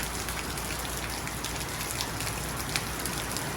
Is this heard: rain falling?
yes